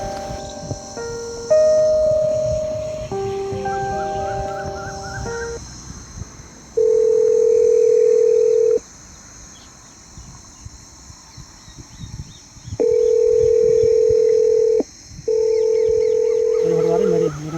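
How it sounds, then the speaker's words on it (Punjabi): Electronic keypad beeps give way to a ringback tone from a call placed on an emergency call telephone, long steady buzzes repeating with pauses between, loud and close over faint background noise. "ਰਿੰਗ ਜਾਰੀ"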